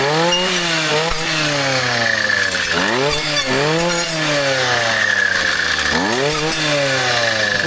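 Chainsaw biting into wood at full throttle, its engine whine dipping and recovering in repeated pitch sweeps as the chain loads up, loud and close with no talk.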